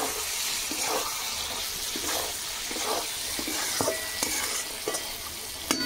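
Fish curry cooking in a pan gives a steady sizzle and bubble close by, with repeated scraping stirs and a few sharp clinks of a utensil against the pan.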